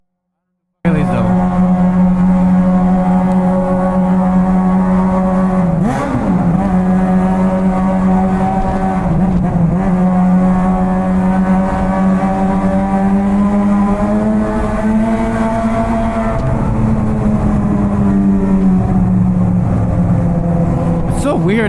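Suzuki GSX-R 600 sport motorcycle engine droning steadily while riding, with pitch shifts and brief dips as gears change using the clutch; loud, continuous, with wind noise throughout.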